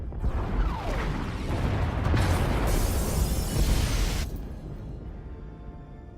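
Pod bays exploding in the video game Star Wars: The Old Republic, a loud sustained rumbling blast with crackling debris that holds for about four seconds before falling away into a quieter roar.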